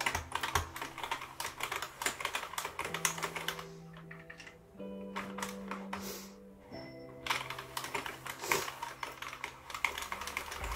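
A Sentro knitting machine cranked slowly while knitting waste yarn, giving a steady run of rapid clicking and clacking ticks, close and fairly loud, with a brief softer lull in the middle and no talk.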